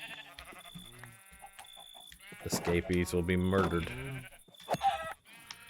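Sheep bleating in Minecraft (Valhelsia 2 modpack), several wavering bleats near and clear, one long call in the middle and shorter ones around it, with someone speaking briefly over them.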